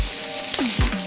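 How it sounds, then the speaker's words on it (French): Capon pieces, thighs and wings of a Noir d'Astarac Bigorre bird, sear in a hot pan with their garnish, giving a steady broadband sizzle with brief scraping stirs partway through, fairly close and with no talking. "On continue à saisir nos morceaux de viande et les garnitures"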